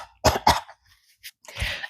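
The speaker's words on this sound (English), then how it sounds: "Brit starts coughing like she's got a cobweb caught up in her throat" A woman coughs twice in quick, harsh bursts, then after a short pause gives a rougher, breathy cough, close and fairly loud.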